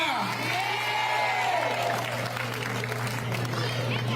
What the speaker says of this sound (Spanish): por favor, fuerte los aplausos